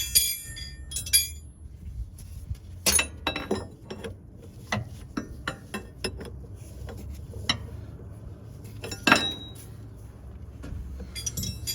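Wrenches clink and ratchet against metal while a leaking Cummins PT fuel pump on a cabover truck is worked on, with scattered close, sharp taps and clanks over a low rumbling background.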